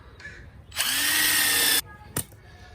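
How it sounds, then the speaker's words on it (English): A power drill whirs at high speed for about a second, biting through wooden boards, followed by a short second burst and faint clatter. "And drill through."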